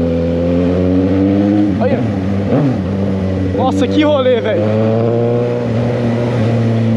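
A Suzuki GSX 750 motorcycle engine runs loud and close with steady harmonic drone, rising and dipping through several revs while a rider talks over it.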